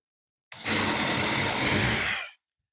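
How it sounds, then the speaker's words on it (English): A power drill fitted with a step drill bit bores through a 2x4, a loud, steady, high-pitched whirring grind lasting almost two seconds, then stopping abruptly. "how fast this drill bit cuts through a 2x4"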